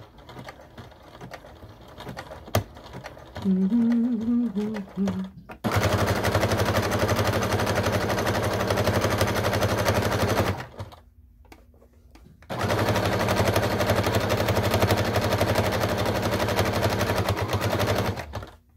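A sewing machine zigzag-stitching fleece runs in two long, loud rapid bursts separated by a short pause, after some quieter handling noises and a brief hum at the start.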